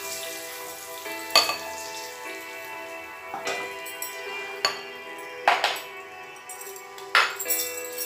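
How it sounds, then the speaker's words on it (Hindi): Fried eggs lift out of hot frying oil as a steady, close sizzle runs throughout, broken by several sharp clicks and taps of a utensil against the pan, with no talk. "देखिए अंडा हमारा फ्राई हो चुका है, अब इसे हम निकाल देंगे तेल से।"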